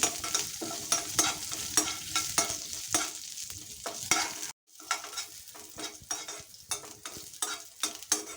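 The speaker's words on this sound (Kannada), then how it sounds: "ನೆಲ್ಲಿಕಾಯಿನ ಹಾಕ್ಕೊಳ್ತೀನಿ. ಇದನ್ನು ಚೆನ್ನಾಗಿ ಹುರಿಬೇಕು." Indian gooseberries (amla) roasting in a pan on the stove, with repeated scraping stir strokes and a light dry sizzle, close and fairly even, briefly cut to silence midway before the stirring resumes.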